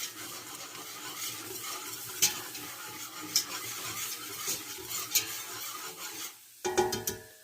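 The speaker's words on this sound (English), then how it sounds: "I'm going to go ahead and add 1/3 cup of sprouted flour and give it a good whisk" Flour being whisked into six tablespoons of melted butter in a stock pot, a steady scraping swish with light metallic clinks against the pot, close and continuous with no talking.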